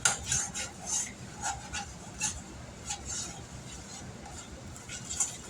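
Ham and potato soup being stirred in a crockpot, repeated scraping and rubbing strokes of a utensil against the pot, moderately close and rhythmic, with soft clinks between strokes.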